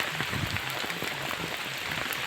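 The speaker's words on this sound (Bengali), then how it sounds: "জোরদার বৃষ্টি" Heavy rain drums steadily on the fabric and ground around a tent, a dense, even patter with no break, close and loud.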